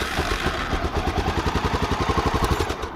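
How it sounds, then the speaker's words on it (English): Hot Honda XR650L motorcycle engine running just after a first-turn start, a rapid even thumping idle close by and fairly loud, with no talk. "But the bike starts fine"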